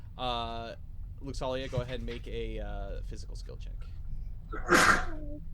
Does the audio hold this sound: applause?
no